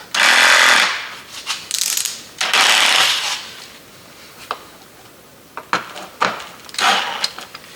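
A cordless screwdriver with a draining battery backs out small screws from the rear hatch of a Jeep Grand Cherokee WJ, sounding in several loud, close whirring bursts separated by quiet pauses.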